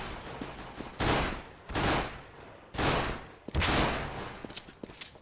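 Automatic gunfire in Counter-Strike on the map Cache during a 2015 World Championships qualifier match, heard as four loud bursts about a second long, separated by brief gaps, with quieter single clicks and shots at the end.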